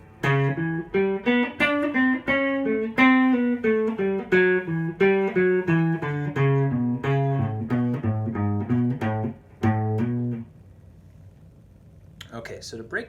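A clean electric guitar plays a country lead line slowly, picked note by note in a steady rhythm, close and clear, then stops and lets the last notes fade before a brief shuffle.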